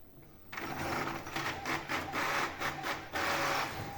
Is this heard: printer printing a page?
yes